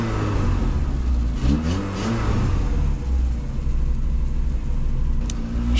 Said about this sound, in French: Pour moi, le moteur, il bouge et il résonne quelque part.